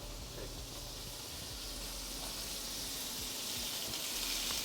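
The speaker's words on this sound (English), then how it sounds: "is this sizzling of the lambs? Yeah, it is, Frank." Lamb sizzling while cooking in a pan, a steady faint frying hiss that grows a little louder toward the end, with no talking over it.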